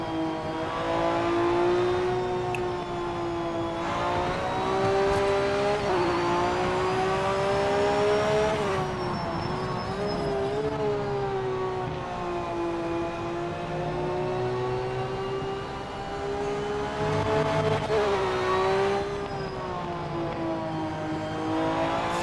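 A race car engine in the sim game Project Motor Racing drones loudly and continuously, its pitch rising and falling as the driver works the throttle through gears, with no voices over it.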